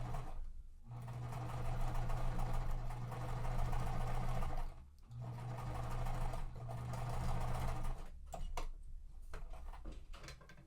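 A sewing machine stitches quilt pieces in two long, steady runs of rapid mechanical whirring with a short pause between them, then stops and gives way to a few clicks and light handling noises close by.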